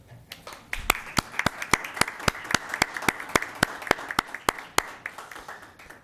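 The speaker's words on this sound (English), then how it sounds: "We may applaud." Applause at a Los Gatos town council meeting in 2012: a small group claps steadily with sharp, distinct, evenly spaced claps, close and clear, with no talking over it.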